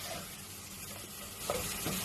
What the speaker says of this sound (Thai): อันนี้จะผัดนิดหน่อยให้หอมๆเนาะให้กลิ่นเขาหอมๆหน่อย